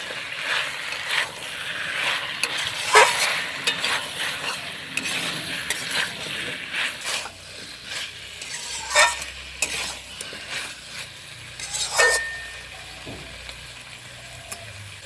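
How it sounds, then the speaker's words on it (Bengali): Red amaranth greens are stirred in a pan with the lid off, giving a soft continuous scrape and rustle over a low sizzle, with a few brighter clinks of the utensil against the pan. "এখন ঢাকাটাকে তুলে নেব একটু নাড়াচাড়া করে দেবো"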